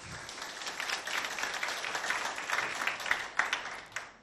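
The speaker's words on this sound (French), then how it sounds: "Applaudissez très fort." A school quiz audience applauds steadily for several seconds, the dense clapping rising slightly in intensity and then fading near the end.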